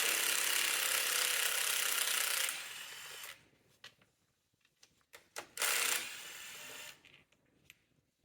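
A ratchet with a 10 mm socket clicks rapidly while loosening valve cover bolts on a 2002-or-later Mini Cooper, two long bursts of fast ratcheting broken by quieter clinks and handling noises, close up.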